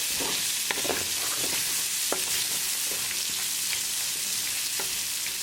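Chicken thighs with cumin, garam masala and coriander powder stir-fry in a pan with a continuous close sizzle and scattered scraping clicks as the mix is stirred.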